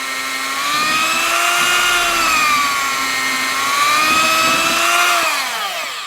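A vintage kitchen mixer converted into a drill runs at full power, a loud, steady motor whine with strong harmonic tones that rise and dip slightly in pitch, close and alone.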